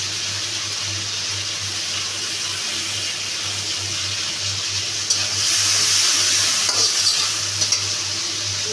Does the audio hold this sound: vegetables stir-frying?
yes